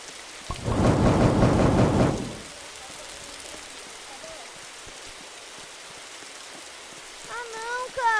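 A burst of thunder with rain rolls in loudly in a video game, lasting about two seconds before fading to a quieter rainy wash, and a voice begins near the end.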